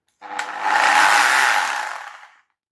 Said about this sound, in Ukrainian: Сверление с ударом.